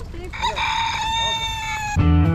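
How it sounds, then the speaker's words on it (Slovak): Two roosters crow in turn, one long drawn-out cock-a-doodle-doo followed by the start of a second, fairly close and clear with faint background noise and no talking. "Tu sú dva kohuty na jednom smetisku a sa nebijú."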